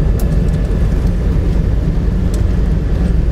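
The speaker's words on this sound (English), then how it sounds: "Yeah, the engine starting up." A Boeing 777 engine spools up during pushback on a Korean Air flight, a steady loud broadband roar and rumble heard from inside the cabin, continuous and without speech.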